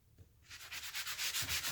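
Rhythmic scraping of a soft sanding block rubbing back and forth across a Dollar Tree charger plate, close up, with steady strokes building in loudness.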